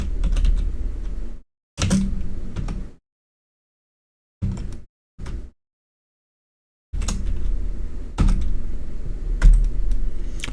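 Someone types a dice-roll command on a computer keyboard in quick bursts of clicky keystrokes, broken by several seconds of silence, then a longer close run of typing.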